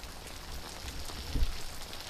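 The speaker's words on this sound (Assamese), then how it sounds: "ল'ৰা মানুহ বৰষুণ দিছে" Steady rain falls in an even, close hiss that holds for the whole stretch, with one brief louder patter near the middle and no voices.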